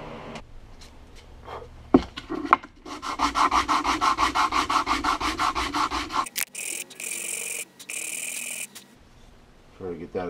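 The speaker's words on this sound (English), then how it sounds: "now I'm going to sand the two faces, sand them flat" The faces of a bloodwood knife handle are sanded flat with rhythmic back-and-forth rubbing strokes of wood on abrasive, close and fairly loud, followed by a brief different scraping and a few knocks.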